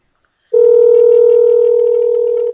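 A single steady electronic telephone ringing tone sounds loud and clear for about two seconds, then cuts off abruptly.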